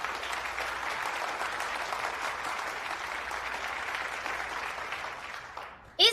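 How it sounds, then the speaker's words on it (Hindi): An audience at a debate competition applauds in a steady, even round of clapping that fades near the end before a brief sharp sound cuts in. "इनके लिए भी तालियां बजाइए।"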